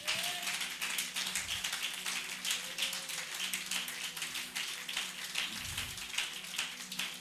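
A church congregation at a Sunday service claps together in a steady, dense patter of many hands, sustained and moderately loud, with a faint held tone beneath.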